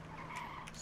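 A car handbrake skid in the video game H1Z1, a faint, brief tire squeal sliding across the ground, heard alone without talk.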